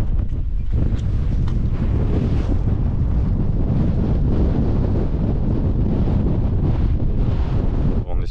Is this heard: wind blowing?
yes